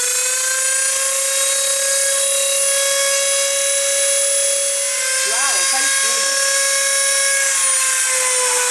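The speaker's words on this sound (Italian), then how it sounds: "lo faremo utilizzando un mini trapano elettrico" An electric mini drill with a small bit bores into a wooden crate, giving a loud, steady high whine that dips briefly as the bit bites, while a voice talks over it.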